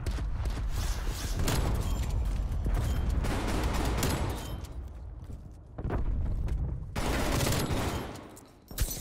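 Dense, continuous gunfire in the Black Ops Cold War video game, loud and sustained with a brief lull near the middle, where the bursts of shotgun blasts blend into a steady battle din.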